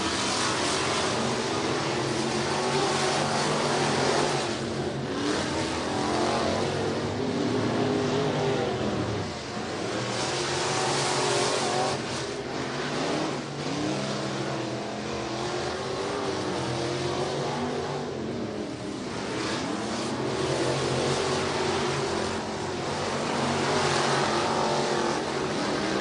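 IMCA Northern SportMod race cars roar around a dirt oval at Nipomo, California, a dense, continuous engine drone rising and falling as the pack passes, loud and steady for the whole stretch with no talk.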